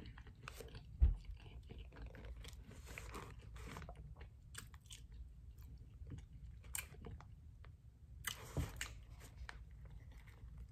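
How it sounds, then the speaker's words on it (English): Crunchy Popeyes fried chicken coated in Hottie Sauce being bitten and chewed close up, with repeated crisp crunches and soft wet chewing in uneven bursts and no talking. "Just hear the crunch and feel it."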